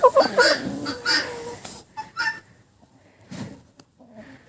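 Young Cochin hens cluck in short, irregular bursts at close range, mixing with soft rustling and a few quieter pauses; no one speaks.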